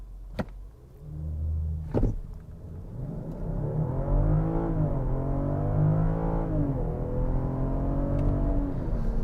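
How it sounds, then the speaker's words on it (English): A BMW xDrive hybrid SUV pulls away hard under launch control in sport mode, its drivetrain rising in a steady swelling whir and hum that builds and sustains through the run, heard close from inside the cabin. "let's go ahead and try out the 0 to 60 performance of this car"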